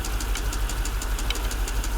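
Mercedes S55 AMG engine heard through a large screwdriver pressed against it, a steady close mechanical hum with fast rhythmic ticking and knocking pulses, continuous and moderately loud.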